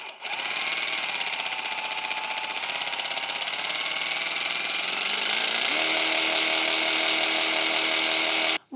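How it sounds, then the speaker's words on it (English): An Evolution R90JGS-Li cordless jigsaw runs with its motor revving as the trigger is pulled, a loud, steady, close buzzing whine that climbs in pitch partway through before cutting off abruptly. "Now I'm just going to show you the trigger action, okay, the RPMs."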